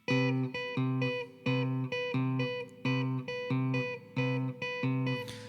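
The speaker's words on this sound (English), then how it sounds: "I'm going to teach you how to play your first polyrhythm" Two pitched electronic tones sound together in a steady repeating pattern, their regular pulses interlocking in a two-against-three rhythm, clear and close with no talking.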